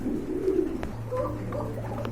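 A low, throaty coo from a feather-footed pigeon rolls out briefly at close range over a faint steady hum, followed by softer murmuring.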